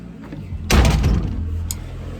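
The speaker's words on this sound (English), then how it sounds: "Got my door closed." A car door shuts with a single solid thud, followed by faint rustling and a small click inside the vehicle.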